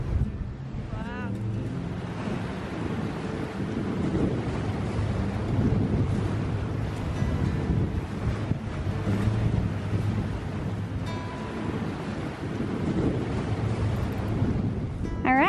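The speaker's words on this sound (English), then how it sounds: "It's windy." Wind buffets a sailboat at anchor in the South Pacific, a steady roar of gusts against the microphone with water lapping beneath, while people talk over it.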